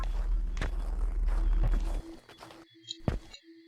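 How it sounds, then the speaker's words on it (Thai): A few distinct footsteps thud close by over a low rumble in a Roblox game, which then cuts out, leaving sparse steps and clicks in near silence. "นี่เสียงเท้าเลยแค่เข้ามา"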